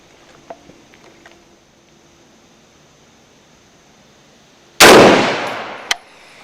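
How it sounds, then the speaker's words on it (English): A single loud DSA 58 FAL rifle shot fired toward a 100-yard target cracks out after several seconds of quiet outdoor ambience, its broad blast decaying over about a second, followed by a short metallic clank. "By the way, this shot is going to 100 yards."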